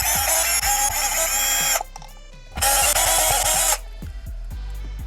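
Cordless drill backing out 2.5mm hex screws from beadlock rings on RC drag racing wheels, two loud whirring bursts about two seconds each, with clicks and ratcheting handling sounds in the gaps between them.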